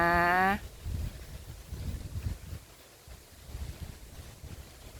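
Wind gusts buffet the microphone as the sky darkens before a storm, a rough, uneven rushing that rises and falls after a brief voice at the start.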